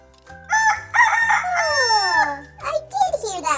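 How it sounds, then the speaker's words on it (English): A rooster crows loudly and close, one long drawn-out call over a steady plodding musical backing, followed by a few brief bright vocal sounds. "I did hear that rooster,"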